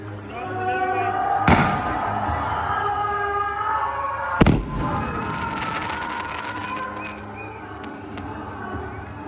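Firecrackers burst during a Navratri Ramlila stage show, two sharp loud bangs a few seconds apart that ring out over a constant crowd hum and nearby talking.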